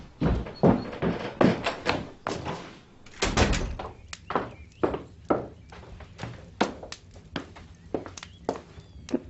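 A door is handled with a series of heavy knocks and thuds, repeated irregularly and close by, with wooden clatter and movement sounds running throughout.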